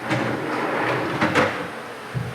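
A bathroom cabinet drawer without soft close is slid shut, giving a couple of dull wooden knocks and a scrape in a quiet room.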